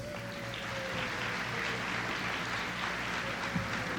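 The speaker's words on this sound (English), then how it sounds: "Let's give a nice round of applause to Senator Jim Hurley." Audience applause at a 1988 Wheaton Industries centennial celebration in Millville, New Jersey, after a senator is introduced; a steady, fairly faint wash of clapping from a large crowd that holds evenly throughout.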